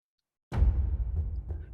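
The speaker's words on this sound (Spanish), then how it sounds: "una librería puramente como de percusiones, así como de acción" A single heavy, booming cinematic action percussion hit from a sample library strikes after a moment of silence, with a deep low-end body and a ringing, reverberant tail.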